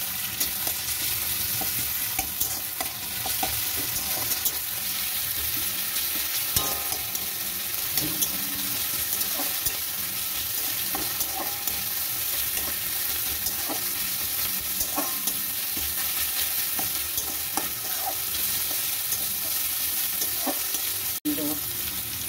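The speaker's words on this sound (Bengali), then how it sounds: "আমি রসুন বাটা দিয়ে দিলাম। রসুনটা একটু ভাজা ভাজা হবে।" Garlic paste and onions frying in a pan make a continuous, even sizzle with faint stirring clicks throughout, no voices present.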